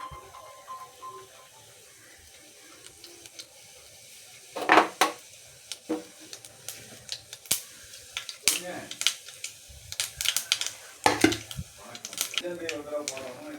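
Mustard seeds and dal splutter in hot oil for a Kerala-style greens thoran, irregular sharp pops and crackles rising after a quiet start, close by with a voice talking over them.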